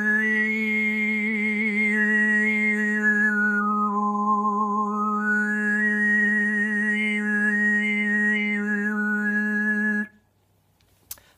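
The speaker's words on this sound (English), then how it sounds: "you get the normal note you're singing and then a high-pitched note above that" Tuvan-style throat singing by a lone voice holds a steady low drone while a bright whistling overtone glides above it, dipping and rising for about ten seconds, then stops abruptly.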